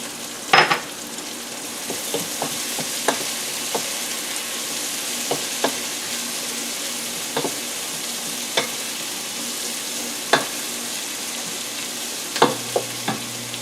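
Chopped garlic cloves hitting a pan of translucent frying onions, giving a steady close sizzle and frying hiss throughout, punctuated by scattered clicks and taps of a spoon stirring against the pan.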